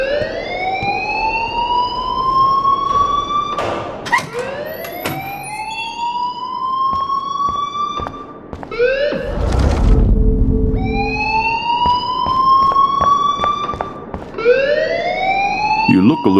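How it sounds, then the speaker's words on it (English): A repeating electronic alarm tone rings through a school building in the video game Life Is Strange, rising in pitch over and over in a steady loud cycle, with a brief burst of noise partway through. "please turn off that alarm since that's your job."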